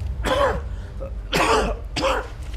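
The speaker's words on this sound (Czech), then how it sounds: "Počkej, kašle, nevidíš?" A person coughs three times in close succession, each a harsh, throaty burst heard up close with brief pauses between.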